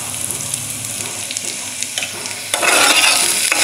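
Garlic ginger paste and onion are stirred in a pan, a soft crackling sizzle that jumps into a louder, brighter frying burst partway through as the mix is moved around.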